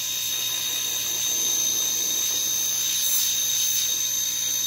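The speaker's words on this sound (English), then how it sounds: "And it's on. It's on. Suction is sucking." A hermetic compressor runs on a test analyzer with a steady, loud mechanical whir and high electric whine that holds unbroken throughout.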